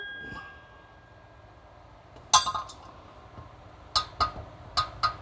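A torque wrench and vice grip on a motorcycle wheel spoke give a few sharp metallic clinks and ticks, one near 2.3 seconds and a cluster later, close and fairly quiet.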